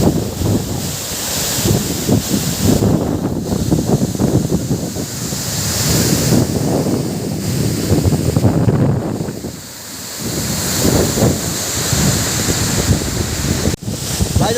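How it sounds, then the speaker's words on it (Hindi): A loud, continuous rush of Gunjiwada Waterfall in Andhra Pradesh, swollen and muddy after overnight rain, roars close by, with wind buffeting the microphone throughout. "वाटरफॉल में कितना ऊपर पानी गिर रहा है"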